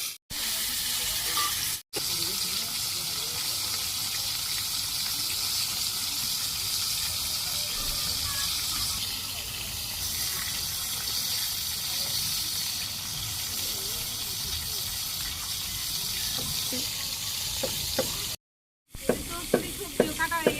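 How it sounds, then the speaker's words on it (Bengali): Bitter gourd (karela), already coated with seasoning, frying in hot oil in a village kitchen: a steady broadband sizzle and hiss runs almost without pause, a brief dropout near the end, then scattered stirring clatter. "তো এই যে তেল গরম হয়ে গেছে, এগুলো আমার মাখিয়ে নেওয়া হয়ে গেছে, ছেড়ে দিয়ে"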